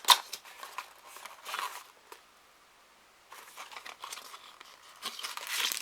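A package of organic passion fruit-guava black tea with marigold, rose and mallow petals is torn and opened, giving close, quiet crinkling and rustling of wrapping in irregular bursts with a short pause in the middle.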